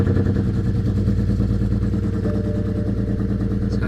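A worn, heavily modified BMW 335i engine cranks and runs with a rough, rhythmic clattering drone, loud and close, steady throughout with no voices.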